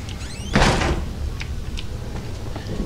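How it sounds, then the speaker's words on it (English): In the horror game Outlast, a door is shut with one sharp thud early on. Quieter room ambience and a few faint clicks follow, with no talk. "shut the door"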